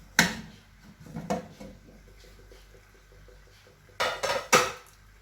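The lid comes off a pot of steamed spicy mini kozhukattai dumplings with sharp metallic clanks, a couple of knocks early and a quick cluster of three clatters toward the end, with quiet gaps between.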